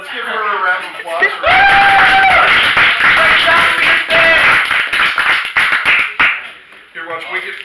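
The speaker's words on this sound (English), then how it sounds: "Let's give her a round of applause." Loud audience applause at a school magic show fills the room with dense, steady clapping, with cheers and chatter mixed in, before fading into scattered claps.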